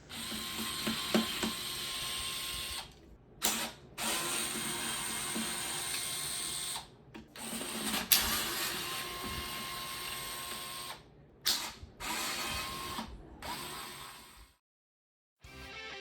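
Screws come out of an X-Arcade Tankstick housing under a screwdriver, giving repeated ratcheting clicks and turning scrapes in short bursts separated by brief pauses, close and fairly quiet.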